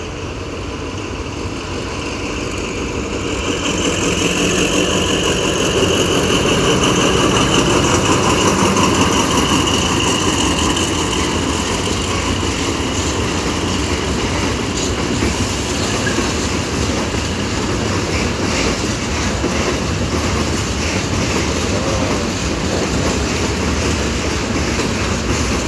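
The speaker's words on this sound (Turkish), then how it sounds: "Yük treniymiş." A freight train rumbles past nearby in Ceyhan, a loud continuous roar with rattling wheels and clattering cars that swells after a few seconds and holds steady.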